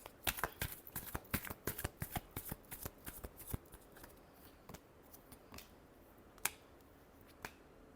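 Tarot cards being shuffled by hand in quick, crisp riffles and slaps, a dense flurry at first that thins to a few sharp taps, close and fairly quiet.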